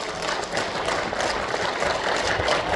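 Lecture-hall audience applauding at a forum talk, a dense steady wash of many hands clapping at moderate distance, unbroken for the whole stretch with no speech over it.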